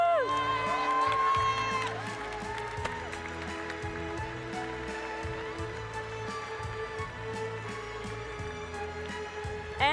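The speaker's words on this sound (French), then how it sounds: "Un tonnerre d'applaudissements pour la majeure culturelle d'HEC." Audience applause and cheering for graduates at an HEC Paris commencement ceremony, a broad sustained crowd sound with scattered whoops, mixed with music and voices over a public address system.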